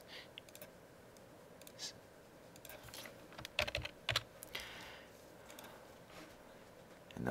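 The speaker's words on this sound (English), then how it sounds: "We can also set them over here by using our keyboard." Keys on a computer keyboard are tapped in short, uneven bursts at close range, with a cluster of sharper clicks midway, over a quiet room background.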